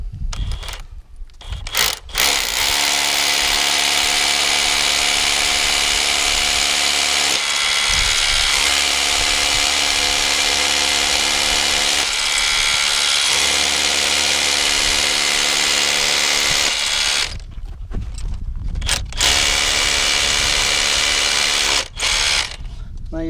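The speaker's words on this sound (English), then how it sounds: "I usually drill the hole a little bit deeper than what the length of the bolt is" A power drill bores a bolt hole into rock while a climbing route is being bolted, giving a loud, steady grinding whine that runs almost continuously for around fifteen seconds, then stops and restarts in short bursts.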